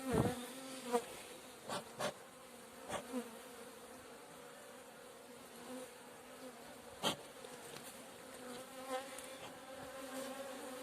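Honeybees buzz in a steady, dense hum inside an opened beehive, close and continuous, with occasional knocks and handling clicks from frames being worked.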